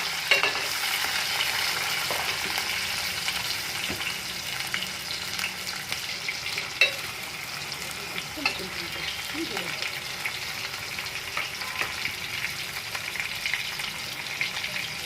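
Onions frying in hot oil with cinnamon, cloves and fennel for pork biryani: a steady, close, bright sizzle for the whole stretch, with occasional stirring scrapes and small pops.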